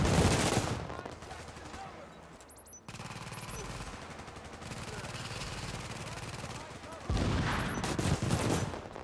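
Enemy turret gunfire in The Division, a dense rattling burst at the start, a quieter stretch of game noise in the middle, then another heavy volley near the end; faint voice traces may sit under the din.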